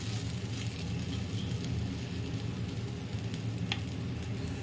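Potatoes cut into small pieces fry steadily in a pan, giving a continuous soft sizzle and crackle at moderate, even level throughout, with no talking.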